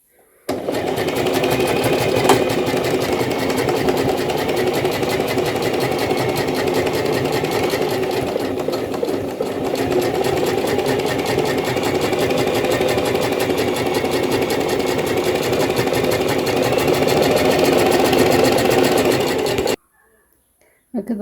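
An industrial sewing machine stitches a sleeve seam with a loud, continuous rapid motor hum and needle chatter, running steadily for about twenty seconds before stopping abruptly.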